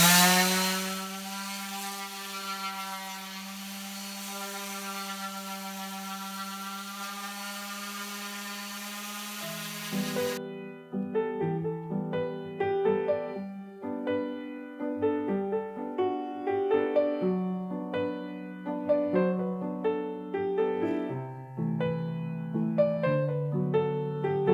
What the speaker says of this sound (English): Okay, let's sand it.